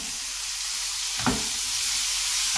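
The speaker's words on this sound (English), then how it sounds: "tilt your pan towards you just a little bit and baste your steaks with the butter" Steaks frying in a tilted pan while being basted with melted butter and garlic: a loud, even, close sizzle with one brief clack of the spoon partway through.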